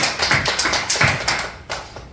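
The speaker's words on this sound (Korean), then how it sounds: "우리 하나님께 영광의 박수 올려드립니다." Congregation at a Wednesday worship service in a church clapping together, a burst of sharp, fairly close claps in quick uneven rhythm that thins out and tapers toward the end.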